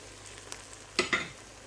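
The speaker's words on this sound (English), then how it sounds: "And we're just going to stir this in." Fresh coriander leaves being stirred into a simmering spinach curry (palak), giving a soft sizzle with two short scraping stirs near the end, fairly quiet and close.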